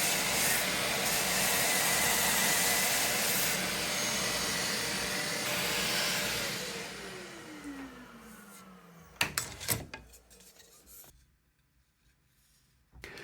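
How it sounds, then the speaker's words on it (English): An aggressive random-orbit sander with P180 Abranet mesh abrasive works over thin plywood, a steady loud whirring hum that winds down with a falling pitch, followed by brief clunks and handling noises, then near quiet. "especially with an aggressive sander like this"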